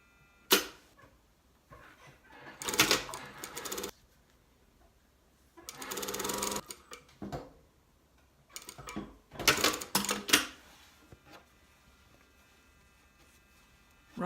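Sewing machine stitching a collar seam from neck to shoulder, running in short separate bursts of a few seconds each with quiet pauses between, close and fairly soft.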